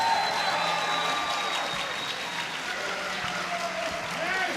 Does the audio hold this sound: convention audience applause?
yes